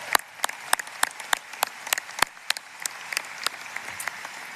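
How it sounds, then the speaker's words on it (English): Scattered clapping from an audience at a university graduate commencement, honoring student athletes: sharp individual claps at an uneven rhythm, moderately close and fairly quiet, with no voices over it. "how about one more round of applause for all of our student athletes?"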